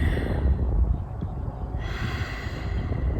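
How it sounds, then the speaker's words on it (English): Close, steady open-mouth breathing rolls like a wave during a yoga session, a long breathy exhale followed by a fuller rush of breath, heard alone with no talking. "exhaling like this"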